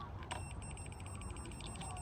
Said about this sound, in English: putting the beep beep tool on here